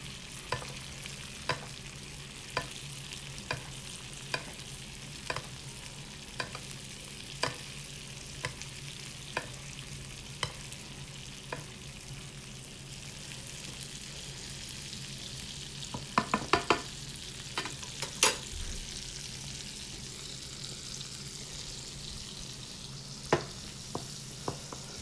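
Vegetables sweat in a pan with a soft, steady sizzle while a utensil stirs them in regular scraping strokes, with a brief cluster of louder clinks partway through and no talk.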